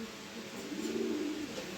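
A pair of caged pigeons coo softly in a low, rolling murmur close by, with light rustling that could be fluttering and no talk over it.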